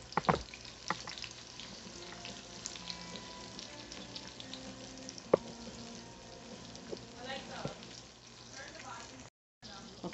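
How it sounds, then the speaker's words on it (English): Onions frying in oil in a home kitchen pot give a faint, steady sizzle under clattering, water noises and intermittent nearby voices, with a sharp knock partway through. "Okay, the oil, the onions are cooking good."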